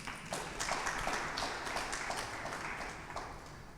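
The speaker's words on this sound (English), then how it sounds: "I'd like to extend the round of applause to three great people" Audience applause fills a room at a live Union Marks event, steady dense clapping from a crowd with scattered sharper claps standing out, sustained at even loudness throughout.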